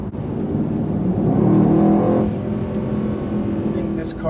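Mercedes E63 AMG-S with a V8 engine, driven on a parkway in Sports Plus mode, pulls hard after a downshift with a loud, steady, rising engine roar heard from inside the cabin.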